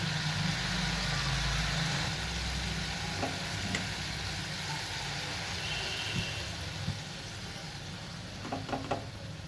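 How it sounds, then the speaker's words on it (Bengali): Pomfret fish going into sizzling spiced masala in a pan, a steady hissing fry with a low background hum and a few soft clinks and taps of placing the fish. "মশলা কষানো হয়ে গেছে, এবার আমি মাছগুলো দিয়ে দিচ্ছি।"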